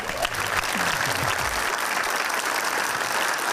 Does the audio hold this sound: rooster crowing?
no